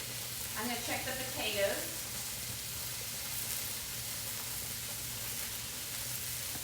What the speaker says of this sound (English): I'm going to put a little bit more olive oil in there. And I'm going to let this sear.